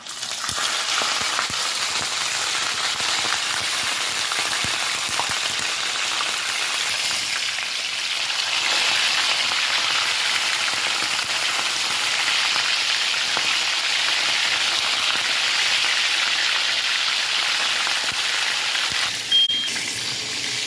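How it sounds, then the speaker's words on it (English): Fish frying in hot oil gives a loud, steady crackling sizzle that continues without a break, close by, with no one talking. "So now I'm gonna put the fish to fry."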